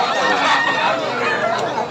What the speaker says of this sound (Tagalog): nasa labas yung mga manok